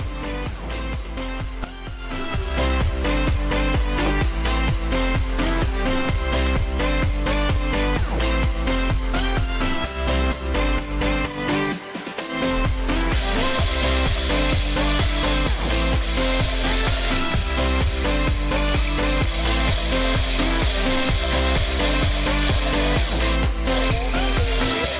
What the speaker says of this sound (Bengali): তো গাইস, আমরা মুড়ি ব্লেন্ড করব।